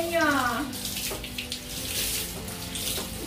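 Warm water runs steadily from a Pet Wand Pro sprayer during a dog bath, a continuous close splashing hiss with a brief squeak near the start.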